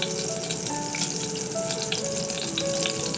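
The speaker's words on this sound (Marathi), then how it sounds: "आणि आता आपण जिरं टाकूया. मस्त आता हे तडतड होतंय." Mustard and cumin seeds crackle in hot oil for a vada pav tempering, a dense, steady sizzle of close, rapid pops that never lets up.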